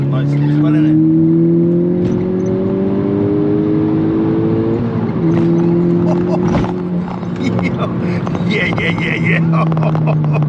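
A Stage 1 tuned Mk6 Golf GTI pulling hard under turbo boost, the engine note rising steadily through the gears from inside the cabin, loud and continuous, with people talking over it.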